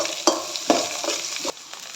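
Vegetables for street-style noodles frying in a pan: a steady hiss of sizzling oil broken by three or four quick spatula scrapes, close up and without talking.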